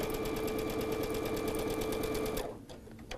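A sewing machine stitches a quilt block with a fast, steady, rhythmic clatter that runs loud and close, then stops abruptly near the end.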